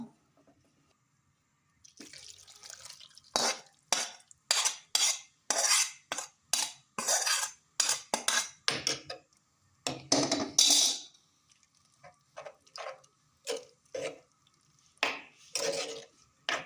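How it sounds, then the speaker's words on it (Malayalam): Prawns tipped into a pan and stirred for a prawn curry, a run of close, wet scraping and clinking spoon strokes in an uneven rhythm after a quiet start, no talking. "ഇനി ഇതിലേക്ക് പറ്റിച്ച് വെച്ചിരുന്ന കൊഞ്ച് ഇട്ട് കൊടുക്കുക."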